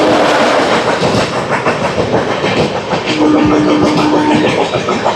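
The 12787 Narsapur–Nagarsol Superfast Express, diverted near Tummala Cheruvu station, roars past very close and loud with a steady clickety-clack of wheels on rails and a brief sustained tone partway through.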